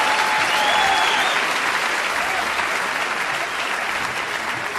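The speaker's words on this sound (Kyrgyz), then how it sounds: "Нурлан Алакунов, Фарида Имашева кол чаап колдоп коелду." A dense, steady wave of audience applause at an anniversary celebration event, loud and sustained without a break, with a faint whistle or voice briefly rising above it early on.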